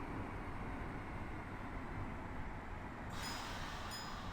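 A train passing in the rail driving game Train Drive ATS 2, a steady low rumble and rolling hiss that stays even throughout, with a faint higher tone entering near the end.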